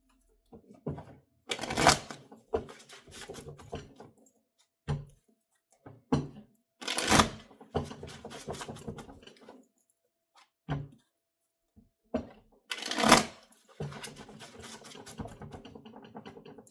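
Tarot cards being shuffled, in crisp bursts of riffling and snapping separated by quiet pauses, with three louder shuffles and softer card handling between, close and with no talk.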